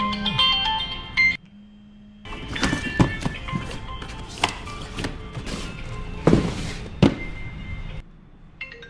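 A mobile phone ringtone plays a repeating electronic melody at moderate loudness. It breaks off briefly and returns, with scattered thumps and knocks around it.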